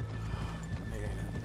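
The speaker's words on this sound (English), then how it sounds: "let's leave the horses here off the main drag" Horses in the video game Red Dead Redemption 2 clip-clop along a street and one neighs, the hoofbeats steady and close under a dense low rumble of ambient game sound.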